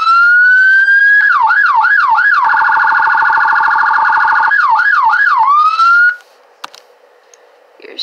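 A sheriff police car siren in the Greenville video game rises, then cycles through wailing and rapid yelp patterns, loud and close, before cutting off into faint clicks.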